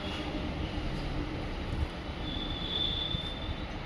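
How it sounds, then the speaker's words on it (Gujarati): Metro train at Vishwakarma metro station, a steady close rumble of rolling wheels with a thin high squeal rising near the end, continuous throughout with no talk. "Vishwakarma metro station."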